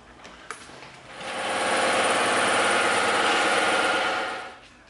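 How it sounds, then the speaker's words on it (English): A bandsaw cuts through a thick slab of EVA foam, rising into a loud, steady whirring buzz held for about three seconds before spinning down, close and with no talking. "we're going to separate these two sections on the bandsaw"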